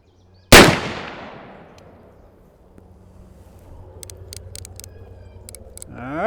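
A single sharp, loud report from a Pietta 1858 Remington Navy percussion revolver, followed by a long decaying ring, then faint background rustle and a few light clicks.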